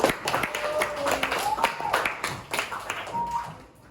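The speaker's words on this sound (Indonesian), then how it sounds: "Tepuk tangan untuk kelompoknya Deva." Schoolchildren in a classroom clap for a student group during a teaching practice lesson, scattered, uneven claps close by, mixed with voices speaking and calling out over them.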